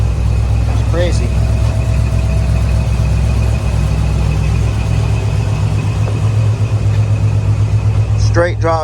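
A 1982 Dodge Ramcharger's engine idles steadily close by, a low, even rumble running throughout while people talk over it.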